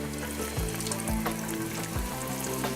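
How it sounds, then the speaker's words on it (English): Continuous crackling sizzle of green tomatoes frying in hot grease, fairly quiet and close, with small pops and a few low clunks in the pan. "Now just layer them in, woo, and watch them sizzle."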